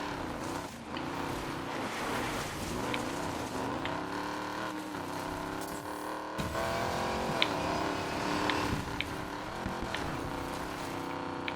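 A nitrous-loaded Plymouth Barracuda tears offroad in Need for Speed Payback, its engine roaring steadily and loud throughout with shifting pitch as it revs and eases, plus a few sharp knocks over the drone.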